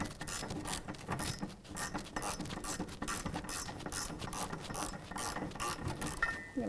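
A ratchet with a swivel socket turns parking brake cable bolts on a 2013-2018 Toyota RAV4, giving a fast, continuous close clicking with brief pauses. No one speaks.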